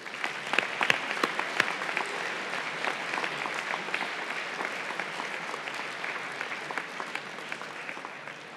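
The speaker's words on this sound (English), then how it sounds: "Let's just get another round of applause for them." An audience at the MIT Battlecode 2008 final tournament gives a round of applause, with dense, steady clapping held at an even level from start to finish and no voices over it.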